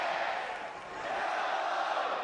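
A sellout crowd at a Georgia Tech vs Florida State college baseball game roars in a broad, sustained wash of cheering, heard from a distance with no clear voices standing out.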